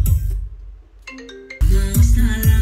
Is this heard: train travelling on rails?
no